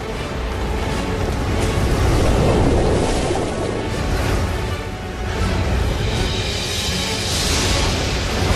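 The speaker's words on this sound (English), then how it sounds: "creating huge tides that race across the planet's surface" Huge ocean waves and surging tides roll in a loud, continuous wash of surf and rushing water, swelling and easing with wind-like noise throughout.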